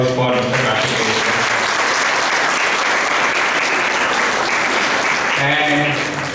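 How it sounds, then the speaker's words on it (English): Sustained applause from an audience at a college HR conclave, dense clapping filling the hall throughout, with a voice speaking over it at the start and again near the end. "Let's all give a round of applause for Mr. Karthikeya sir."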